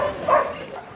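A dog gives a short bark or yip while playing at a dog pool, heard briefly and at moderate distance against background noise.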